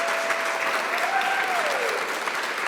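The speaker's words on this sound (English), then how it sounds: "can y'all join me in giving a round of applause to Jayla Martin Beasley" Audience applauding a poet at a spoken-word event, steady dense clapping throughout with faint whistles or cheers on top, no talk.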